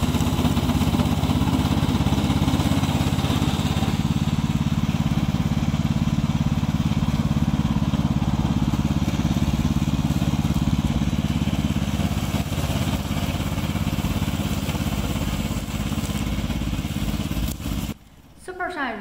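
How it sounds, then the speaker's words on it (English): A radio controlled slope lawn mower runs steadily with a continuous droning engine and clattering mechanical noise for a long stretch, briefly dropping out near the end. "Our main product is Remote Control Lawn Mower."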